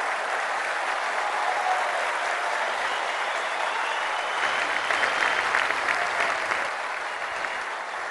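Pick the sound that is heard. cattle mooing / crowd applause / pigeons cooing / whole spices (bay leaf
crowd applause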